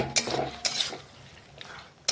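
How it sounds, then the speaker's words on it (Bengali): Mutton being sautéed with spices in a pan, stirred with a metal utensil that scrapes and clinks against the pan in a few sharp bursts between quieter stretches. "এখন বেশ কিছুক্ষণ সময় নিয়ে মটন ভালোভাবে মশলার সাথে মিশাতেই আমি একটু মটন কষে নিচ্ছি।"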